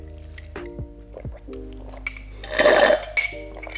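Water is poured into drinking glasses, with sharp glass clinks and knocks followed by a bubbling, rising fill. The sounds are close and clear, with no speech.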